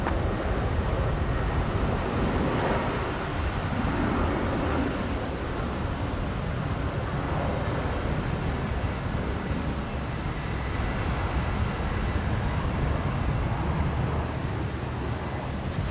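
A Qantas airliner takes off from runway 19 right at Brisbane Airport, with a steady broadband jet roar heard from a distance that holds at an even level throughout.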